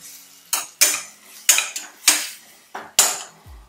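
Mint and coriander are stirred and sautéed in a pot for prawn biryani, a spatula scraping and clanking against the metal in about half a dozen separate strokes, each fading quickly.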